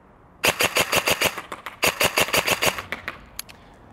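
A G&G Cobalt Kinetics BAMF airsoft AEG rifle fires two rapid bursts of sharp mechanical clacks, about ten shots each, close and loud, followed by a few scattered single shots with no talking.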